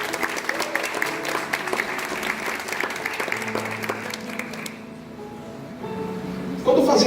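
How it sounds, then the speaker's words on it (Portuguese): Audience clapping for a nutritionist at a talk, a warm sustained round that thins out midway; a voice over a microphone rises near the end, with speech and music-like tones mixed underneath. "Uma salva de palmas."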